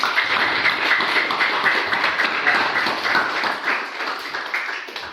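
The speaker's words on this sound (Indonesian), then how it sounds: "Tepuk tangan buat kalian semuanya" Students in a classroom clap, with individual claps audible in a loose, uneven patter that fades slightly toward the end.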